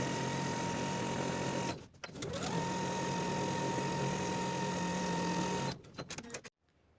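A sewing machine runs in two long steady bursts, top stitching the center front seams of a boxy top with a 1/8 inch seam allowance, with a short pause between runs and a stop at the end.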